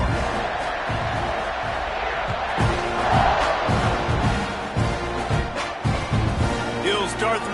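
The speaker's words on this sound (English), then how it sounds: "this crowd is buzzing after that last score." A college football stadium crowd buzzes after a score during a USF game, a dense, steady roar of many voices with occasional louder swells, heard under a broadcaster's talk.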